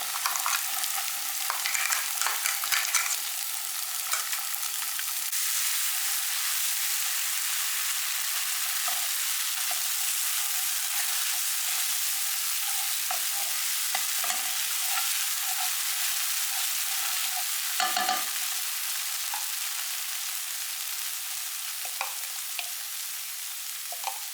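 Ground masala paste sautéing for a Mangalore-style chicken ghee roast, a steady close sizzle and fry with scattered stirring scrapes and clinks throughout, loud and continuous with no talk.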